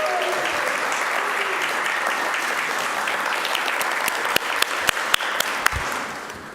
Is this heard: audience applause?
yes